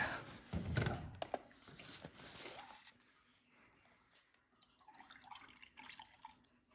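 Milk poured into a bowl while making high-protein French toast, a short close liquid splash and trickle that fades into faint drips and clinks.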